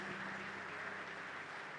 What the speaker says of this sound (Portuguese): Vamos dar para eles uma salva de palmas